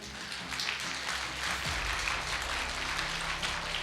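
Audience in a network marketing seminar hall breaking into applause, steady moderate clapping that builds quickly and carries on evenly, with a faint low murmur underneath.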